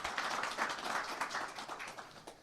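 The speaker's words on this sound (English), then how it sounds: "The staff always leads in the applause, smartly so." Staff lead a press-conference audience in brief, moderately faint applause, a dense patter of clapping hands that thins out toward the end, with no talk over it.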